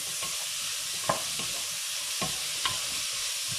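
A spoon stirs vegetable soup in a pot over a soft simmering hiss, with several distinct scrapes and clinks against the pot at irregular intervals; no voices.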